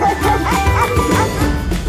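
A dog barks repeatedly, loud and close, in a dense continuous run of yips and woofs.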